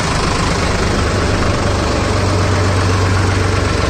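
Sonalika tractor engine, a DI 35 double-clutch model tested against an MM 39, running loud and close with a steady deep diesel throb that rises into a higher held rev partway through; no talking.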